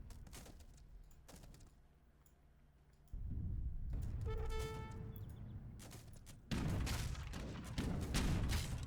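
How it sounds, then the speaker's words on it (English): Distant cannon fire booms in an Age of Empires III battle, several dull low thuds and rumbling blasts mixed with game effects, fairly loud against a busy combat backdrop. "The cannon fire of this game is so good. I love hearing the cannon fire from a distance."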